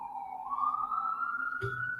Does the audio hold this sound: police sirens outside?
yes